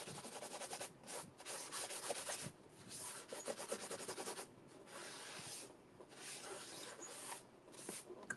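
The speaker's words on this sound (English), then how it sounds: "This is all the wax coming off that I just put on here." Wax being rubbed off a crafted surface with a cloth or pad, producing quiet sustained scrubbing strokes in rhythmic bursts separated by brief pauses, close and soft with no speech.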